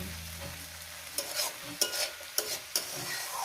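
Small river fish and vegetables fry in a pan over medium-low gas heat, a soft sizzle broken by several sharp scraping strokes of a spatula in an uneven rhythm, close and fairly quiet, with no talking.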